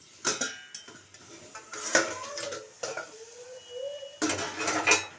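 A metal lid lifted off and set against a cooking pot while making a Bengali papaya dish, a cluster of sharp clanks and scrapes of metal cookware in a quiet kitchen.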